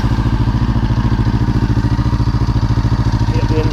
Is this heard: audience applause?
no